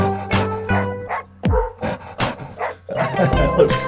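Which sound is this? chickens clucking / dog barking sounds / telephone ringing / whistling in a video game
dog barking sounds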